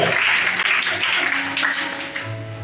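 Worshippers at a Sunday church service in Libreville, Gabon, clap together for a woman named Shana, a loud sustained round of applause that tapers slightly toward the end.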